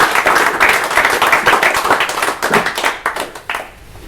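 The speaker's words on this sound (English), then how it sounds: "A round of applause." After a tech meetup talk on functional programming in PHP, a small audience claps, with individual hand claps clearly audible in a loud burst that gradually thins to scattered claps.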